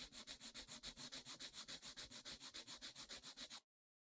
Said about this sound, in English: My third step in filing is shaping the tip of the free edge